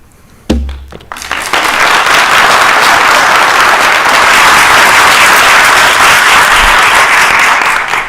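Loud, sustained applause from the audience at a city council meeting breaks out after a speaker finishes and carries on evenly for several seconds, dense clapping filling the room.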